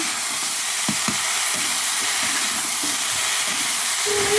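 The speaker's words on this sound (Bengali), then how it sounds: "এখানে আমাদের মিক্স ভেজগুলো ভেজে নেওয়া হচ্ছে" Mixed vegetables frying in oil for a vegetable biryani at an outdoor picnic, giving a loud, continuous sizzle and hiss with a few clanks of a stirring spoon.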